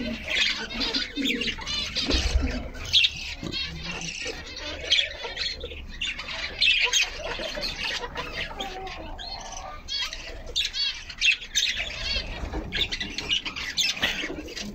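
Chickens and pigeons in a backyard flock of poultry and ornamental birds squawk and coo continuously at close range, with a rooster among them, a busy overlapping chorus with occasional wing flaps.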